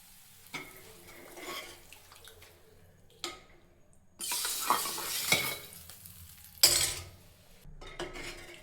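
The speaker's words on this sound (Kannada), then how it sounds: "ಸಾಂಬಾರಿಗೆ ಹಾಕೊಳ್ಳಿ ಒಗ್ಗರಣೆನ." Onion tempering fried in oil and poured into a pot of sambar, giving sizzling bursts with stirring and spoon-against-pot clinks, loud splashy sizzles near the middle and again toward the end.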